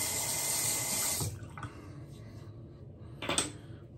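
Water runs steadily from a tap for about a second while a paintbrush tip is wetted, then cuts off, leaving low room noise and one bright clink near the end.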